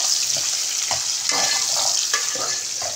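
Onions sizzle steadily in hot oil for spiced potatoes, with a spoon repeatedly scraping and stirring through the pan in an uneven rhythm, close and continuous.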